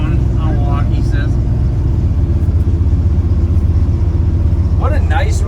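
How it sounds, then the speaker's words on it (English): A 1972 Chevrolet C10 short bed pickup drives along with a loud, steady engine rumble and road drone from inside the cab, while people talk briefly over it near the start and end. "What a nice running, driving pickup"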